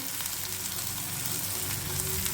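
Onions roast in a pan with a steady, close hiss and crackle of frying, an even wash of sizzle with no breaks and no voices.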